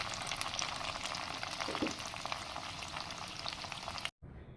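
Marinated cauliflower pieces for chilli gobi fry in oil in a pan, a continuous crackling sizzle with bursts of spitting and a brief stirring scrape, close and steady before cutting off abruptly near the end.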